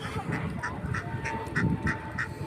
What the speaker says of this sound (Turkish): Ördekler...